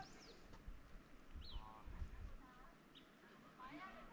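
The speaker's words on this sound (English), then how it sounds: "You can hear the birds singing." Several birds call and chirp in short bursts across a quiet swampy wetland by a boardwalk in the Canadian Rockies, some near and some farther off, with soft low rumbles underneath.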